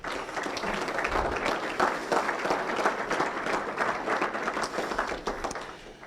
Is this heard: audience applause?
yes